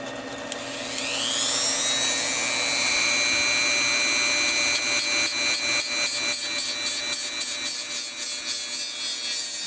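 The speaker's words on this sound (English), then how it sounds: "I'm going to use this variable speed rotary tool with a diamond cutoff disc. I use a 7x10 mini lathe." A variable speed rotary tool with a diamond cutoff disc cuts a part turning slowly on a 7x10 mini lathe, a loud, steady high whine that spins up over the first two seconds then holds with a rapid fluttering pulse, no voices.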